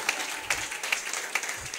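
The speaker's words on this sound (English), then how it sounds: "Applaudissez." A congregation at a prophetic church service claps in a rhythmic pattern. Evenly spaced sharp claps stand out about twice a second over a wash of scattered clapping, with nobody speaking.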